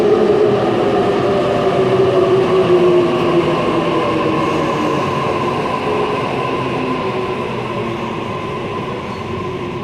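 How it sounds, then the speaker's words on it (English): A Sydney Waratah Series 1 A10 electric train pulls away from a platform on a Penrith service, a steady loud rumble of motors and wheels with a slowly shifting tonal whine, continuous for the whole stretch and gradually easing. "A10 now departing platform number 5, Penrith service"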